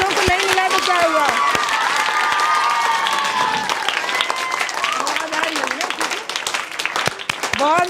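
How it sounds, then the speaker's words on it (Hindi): Schoolchildren applauding in a classroom during a quiz-style lesson with cash prizes, a dense, loud burst of clapping and cheering that runs the whole time, with voices calling out over it. "ताली बजाइए।"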